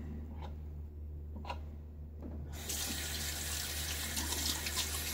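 A tap runs water onto shaving soap, a few faint drips first and then a steady close splashing stream that continues to the end.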